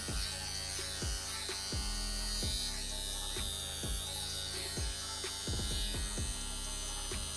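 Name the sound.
tattoo machine running on Inkclaw wireless power supply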